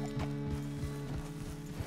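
Horse hooves clip-clop at a steady riding pace in the Red Dead Redemption 2 video game, with regular close thuds over a sustained tonal background.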